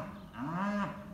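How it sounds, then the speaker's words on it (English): A single low cow moo rises and falls over about a second, moderately close and heard on its own. "Yeah, we hear you, cows."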